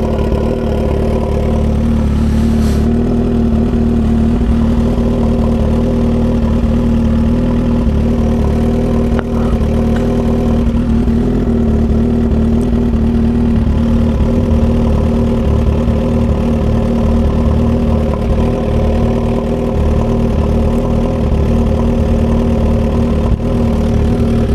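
Motorcycle engines, including a blue Suzuki Hayabusa, run steadily on a track in Japan, a loud continuous mid-to-low engine drone that holds without pause and never clearly rises.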